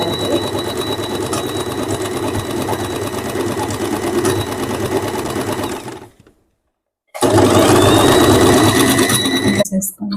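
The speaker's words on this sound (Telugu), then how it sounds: "ఇలా కొంచెం కొంచెం ఫోల్డ్ చేసుకుంటూ ఇలా పీకో చేసుకోవాలి." An electric sewing machine stitches a picot edge along a saree, a rapid loud mechanical whir running continuously, stopping briefly for about a second, then resuming at full speed.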